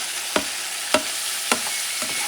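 Ground meat frying in a pan, a continuous sizzle broken by four evenly spaced scraping stirs of a utensil, close and with no talking.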